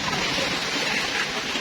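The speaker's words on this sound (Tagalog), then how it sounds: "Ayan, sobrang ingay. Malakas yung ulan." Heavy rain pours down outside a house under renovation, a loud, steady, hissing roar that fills the whole moment without letup, with no voices.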